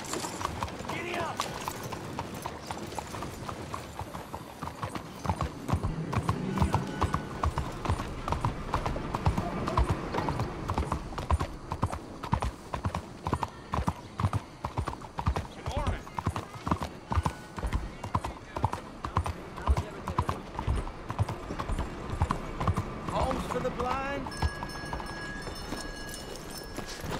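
Steady hoof clip-clop of a horse being ridden along in Red Dead Redemption 2, a continuous rhythmic trot running throughout, with a voice talking over it at times.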